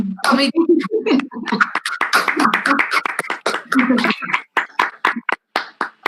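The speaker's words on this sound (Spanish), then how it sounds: "podemos hacer un aplauso colectivo" Collective clapping from online participants with microphones switched on, mixed with voices at first, then settling into scattered separate claps that space out toward the end.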